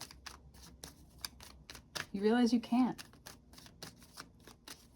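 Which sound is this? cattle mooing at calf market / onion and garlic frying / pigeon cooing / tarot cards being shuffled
tarot cards being shuffled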